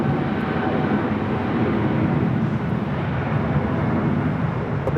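A Boeing 777 airliner departing LAX for Tokyo Haneda gives a steady, loud broadband engine roar that holds evenly for several seconds, with no talk over it.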